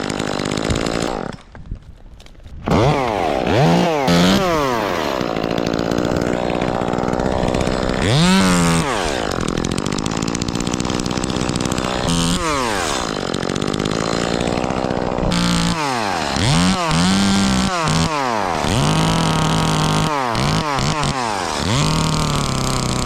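A chainsaw revs hard and bogs repeatedly while cutting a leftover nub off a tree, loud and close, with a brief lull near the start and several rising and falling throttle sweeps.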